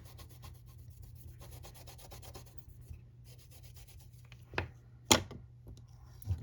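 A stamping card scrapes excess nail polish off a plate, making soft, quiet rubbing strokes that end in a few sharper scrapes.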